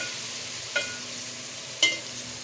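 Onions dropped into a hot pan while cooking keema sizzle with a steady, soft frying hiss, broken by two sharp stirring or scraping clicks.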